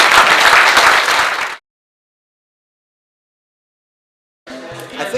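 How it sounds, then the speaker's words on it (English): Loud applause from a room full of people at a startup weekend event, a dense burst lasting about a second and a half, cut to silence, then lighter clapping returning at the end. "Big round of applause to everyone in this room."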